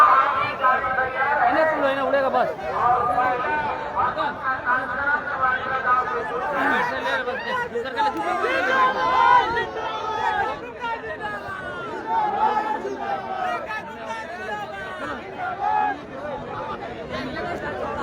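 A crowd of people packed onto a ground waiting for a helicopter, with loud close chatter and overlapping voices that form a steady babble throughout.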